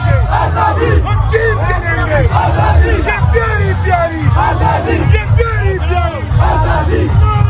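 A large crowd at a PTI rally in Peshawar chanting Imran Khan Zindabad slogans, many voices shouting loudly and rhythmically in overlapping bursts, dense and close throughout.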